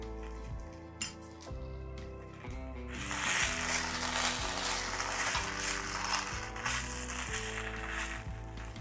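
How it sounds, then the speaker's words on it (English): Ginger garlic paste sautés over a high flame in a pan of golden-brown fried onions for an egg masala; a steady sizzling hiss rises partway through, with occasional light utensil clinks, all beneath continuous background music. "Saute the ginger garlic till that raw smell disappears."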